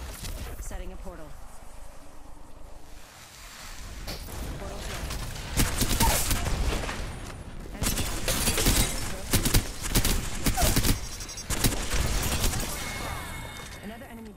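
Apex Legends gunfire during a match, with repeated bursts of shots and impacts, loud and dense over game sounds, alongside in-game voice callouts.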